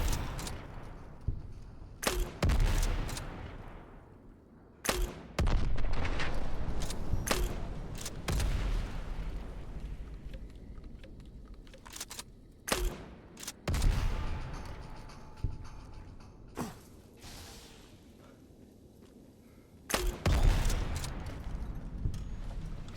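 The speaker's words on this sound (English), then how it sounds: "Try the grenade launcher" Grenade launcher in Fallout New Vegas firing, several sharp heavy blasts spaced irregularly, each followed by a decaying rumble, loud and close with quieter gaps between.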